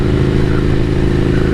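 A café racer motorcycle engine runs loud and close with a steady, throbbing rumble that holds an even pitch, no voices over it.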